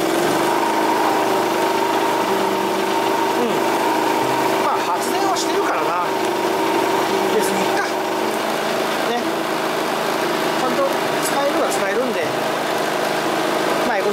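A hand-portable 2.3 kVA inverter generator runs steadily up close with a loud, even mechanical hum for the whole stretch, while someone talks over it.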